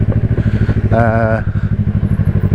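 A Honda CX500 motorcycle engine runs with a steady, loud, close-up throb and regular low pulses, and a brief tonal whine rises over it partway through.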